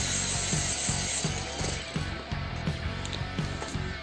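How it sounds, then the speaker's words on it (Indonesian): Sandpaper worked by hand over freshly cut plywood, giving close, steady back-and-forth scraping strokes in a regular rhythm throughout. "Setelah dipotong sesuai dengan ukuran triplek, kita amplas seperti ini teman-teman, biar bagus, biar lembut ya"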